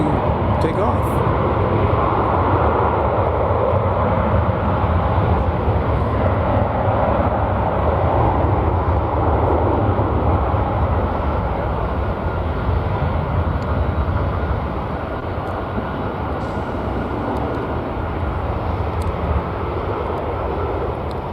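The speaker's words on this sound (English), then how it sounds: "Barely waiting for one plane to take off for the next one to take off." Steady, loud roar of jet airliners taking off one after another from a runway at DFW Airport in Dallas-Fort Worth, a continuous broadband rumble that swells and fades slightly but never drops out.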